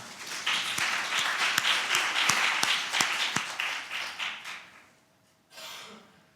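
Conference audience applauding a presenter at a guardianship convention, steady hall-filling clapping with a few sharp louder claps, fading out after about five seconds before a brief rustle.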